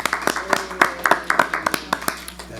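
Scattered applause from the audience at a school district board meeting: a short, loose run of distinct hand claps from a small group, close and fairly loud.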